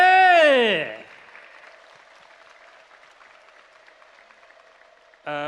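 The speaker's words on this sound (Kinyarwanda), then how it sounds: "Ndumva mwamumpera amashyi menshi cyane." An audience at a formal gathering in Nyamasheke district, before a chairman, gives a sustained round of applause at moderate volume, framed by a speaking voice just before and after.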